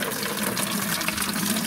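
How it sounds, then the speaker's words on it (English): Water gushes steadily and forcefully from a freshly unclogged windshield washer line on a Mercedes GLE 350 (W166), a constant close rushing hiss with no pauses or voices. "And now water's going like crazy."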